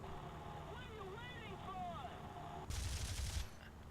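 Brief burst of gunfire from an MC202 fighter plane in War Thunder, loud and broadband for under a second, heard over a steady engine drone.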